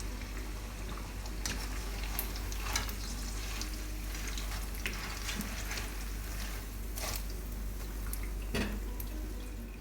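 Pempek pastel frying in hot oil gives a steady close crackling sizzle with scattered sharp pops and occasional scraping stirs, moderately quiet and with no voices.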